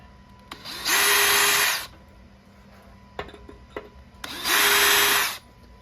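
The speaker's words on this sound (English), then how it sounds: "I think I'm gonna drill and tap one of the holes first" Two loud bursts of a high-pitched power drill whining, each about a second long, separated by clattering and scraping of metal, as holes are drilled in a T56 transmission.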